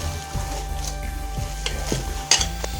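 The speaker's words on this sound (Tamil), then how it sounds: "எண்ணெய் சூடானதும் கொஞ்சமாக எடுத்து எண்ணெய்க்குள்ளே போட்டு பொரிங்க." Ragi onion pakoda batter fries in hot oil with a soft, steady sizzle, punctuated by a few sharp clinks and scrapes of a utensil against the pan.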